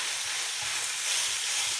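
Minced kofta meat frying in a pan for a pie filling, giving a short, steady hiss of sizzling at moderate loudness with no voices over it.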